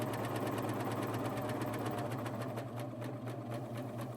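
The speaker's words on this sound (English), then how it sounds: "I'm going to serge off right where that fabric cut" A serger overlocks the cut edge of dress fabric for a shirt dress, running as a steady, continuous mechanical whir with a fast rhythmic stitching pulse throughout, close up and without speech.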